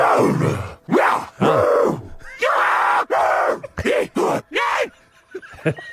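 Zombie groans and grunts from Call of Duty Zombies, a string of guttural moans and choppy snarls of varying length, some drawn out and others clipped, loud and close, trailing off into quieter rasps at the end.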